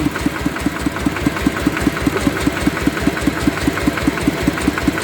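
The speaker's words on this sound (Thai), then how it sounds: "เครื่องสิบเอ็ดแรง" A homemade small car's 11-horsepower engine idles nearby with a loud, steady, rapid chugging pulse and a rattling mechanical knock, alone without voices.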